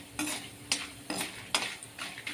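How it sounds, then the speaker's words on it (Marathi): Asafoetida frying in oil in a pan while making goda masala, with a steady soft sizzle broken by several sharp stirring scrapes and clinks of a utensil against the pan, close and moderately loud with no talking. "हिंग मी तेलामध्ये घालून घेत आहे आणि हिंग पण छान असा फुलून येईपर्यंत तेलातून परतवून काढायचा आहे"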